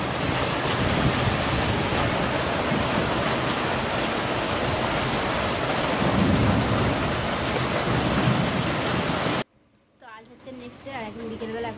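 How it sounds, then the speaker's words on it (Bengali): Heavy rain pours down with rolling thunder in a dense, steady roar that fills most of the stretch, then cuts off to a quieter space where a voice speaks. "আর কি জোরে বৃষ্টি হচ্ছে"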